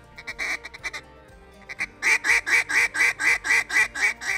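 Duck call worked by hand in a feeding rhythm, imitating a single feeding duck: a loud, close, squeaky chatter of quick honking notes, sparse at first, then a steady rapid run of evenly spaced pulses.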